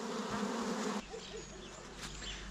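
Honey bees buzz loudly in an opened hive, a dense close drone that drops slightly in pitch partway through and continues steadily.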